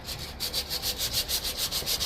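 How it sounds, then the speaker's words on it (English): Bodywork on a 1991 Honda CRX Si gets sanded with 120-grit sandpaper, making rapid back-and-forth rasping strokes in a steady, close rhythm of about six per second. "So we're just using 120, sanding it down to get it as smooth."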